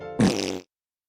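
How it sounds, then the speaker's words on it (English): A single loud, close fart lasts about half a second with a buzzy, raspy tone, then cuts to silence; no talking. "I am sorry that I farted."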